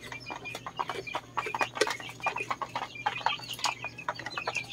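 Month-old chicks, some about three weeks old, cheep and cluck in a backyard, a busy stream of short overlapping calls at moderate distance over a faint steady hum.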